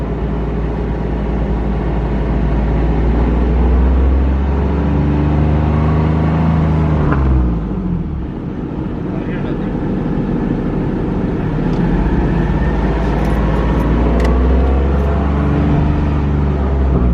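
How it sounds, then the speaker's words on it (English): A car engine, one that keeps breaking down, revs up hard and loud as the driver presses the gas, dips briefly around the middle, then surges and holds a steady roar, with no talk over it. "I'm gonna give it some gas."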